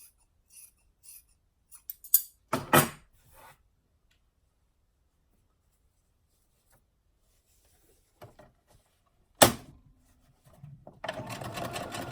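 Scissors trimming the seam allowance on sewn fabric: a few crisp snips and rustles near the mic, separated by quiet gaps, followed by a rougher sustained rasp at the end.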